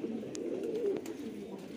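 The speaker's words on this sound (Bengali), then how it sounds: "এটা হলো ব্লু বার্লেস লাহোরি, ব্লু বার্লেস লাহোরি।" Blue Barless Lahori fancy pigeons cooing at a pigeon farm, a low, steady murmuring coo that runs close and moderately loud through the whole short stretch, with faint background chatter.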